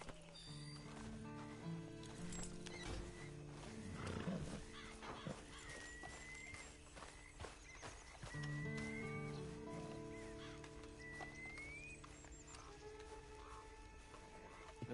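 Horse sounds in Red Dead Online, with neighing and clip-clopping hooves over a steady game-like ambient bed with chirping tones, continuous and moderately loud.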